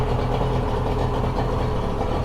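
Outboard boat motor idling steadily, a continuous low, even engine rumble with no change in pace, close and alone.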